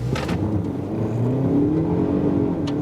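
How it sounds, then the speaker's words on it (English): GWM WEY Coffee 01 plug-in hybrid SUV accelerating hard from a roll with its wheels spinning: a steady, close-up interior roar and rising electric whine of the drivetrain, with a few faint clicks over it. "Let's roll a little bit, then we get more power, and then we go there."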